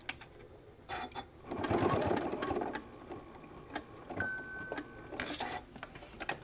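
A sewing machine stitches a shoulder bag in short bursts of fast mechanical chatter, a longer run in the middle and brief clicks between, heard close and fairly quiet.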